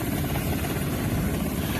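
An MH-60 helicopter, a steady droning rotor and engine hum at constant loudness, heard alone without voices.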